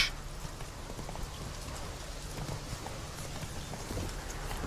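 Roach the horse trotting in The Witcher 3, a steady clip-clop of hooves running throughout over a constant rain-like hiss.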